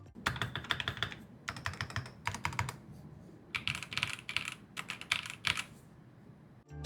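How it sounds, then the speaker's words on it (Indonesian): Close-up typing on an aluminium mechanical keyboard, quick bursts of crisp clacky keystrokes separated by short pauses, no voices. "Gue suka sini keyboard, bahannya aluminium, suara ngetiknya enak."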